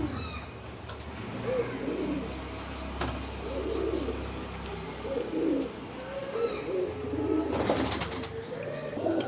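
A crowd of pigeons at a busy Uluberia pigeon market coos in continuous overlapping bursts, with faint chirps, a brief flurry of wing flaps and a general bustle around them.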